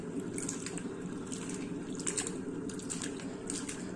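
Cut bitter gourd pieces are washed in water, with steady close splashing and sloshing plus intermittent drips and squishes running throughout at a moderate level.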